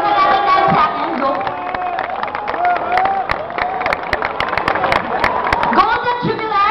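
An audience at the San Beda grand alumni homecoming claps and cheers for the Silver Jubilarians, steady crowd applause sitting under loud music and voices throughout.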